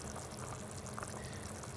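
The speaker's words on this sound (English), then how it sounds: "You can see that bubbling away and the oil floating." Chicken pieces bubbling steadily in hot oil in a pan, pre-cooked the British Indian restaurant way; a continuous dense fizz and crackle, close and even, with no talk.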